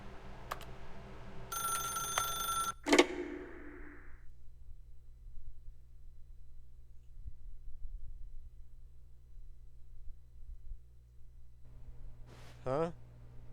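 A telephone rings in The Stanley Parable game, a brief electronic trill near the start followed by a click, then a long hush with faint low hum before a short rising tone at the end.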